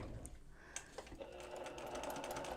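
Domestic sewing machine stitching a quilt block seam, a steady close mechanical whir with needle clatter running through the whole stretch, getting a little louder and denser toward the end.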